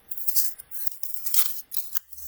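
Scissors snip repeatedly at close range, trimming paper for a 3D city map model, a series of quick, crisp cuts with short pauses between them, quiet and with no talking.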